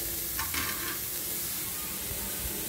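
Carrots sautéing in a pan for carrot rice, a soft steady sizzle with a few brief scraping stirs near the start, fairly quiet and with no talking.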